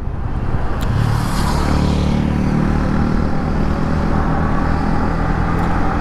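A Yamaha MT-15 motorcycle with its stock exhaust, once involved in an accident, running loud and close with a steady engine drone that rises slightly early on and then holds.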